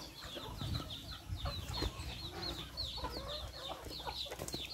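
Backyard farm chickens cluck steadily at close range, with overlapping bird calls and light rustling in a continuous, moderately quiet flurry, no voices.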